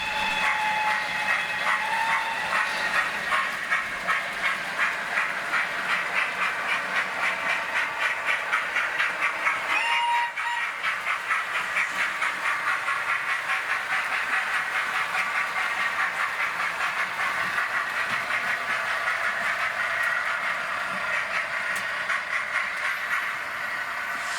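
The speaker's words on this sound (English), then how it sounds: "locomotive or the 101 starting up" A steam locomotive starting up hisses steadily with fast rhythmic chuffing and mechanical clatter, loud and continuous throughout, briefly dipping before resuming.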